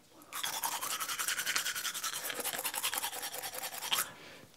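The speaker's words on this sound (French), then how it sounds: "je me brosse les dents" Toothbrush bristles scrubbing teeth in a quick, steady back-and-forth rhythm, close and fairly clear, running for about four seconds during a morning routine at home.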